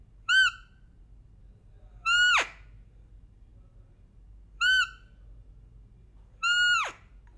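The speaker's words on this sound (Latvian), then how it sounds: "Skaņa butulo svilpē izklausās apmēram tā." A butulo whistle used as a roe deer hunting call sounds four clear, piercing calls in a quiet setting: short chirps alternate with longer blasts that sweep downward, spaced about two seconds apart.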